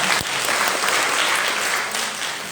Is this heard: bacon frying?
no